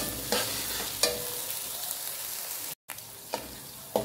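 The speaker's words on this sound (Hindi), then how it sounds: "ये लहसुन और अदरक का कच्चापन तकरीबन ख़त्म हो चुका है। हमने इसे 2 मिनट अच्छी तरीके से भून लिया है।" Garlic and ginger frying in a pan, with a continuous close sizzle broken by occasional scraping stirs and one brief drop-out.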